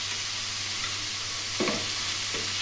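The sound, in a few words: ash gourd frying and being stirred with turmeric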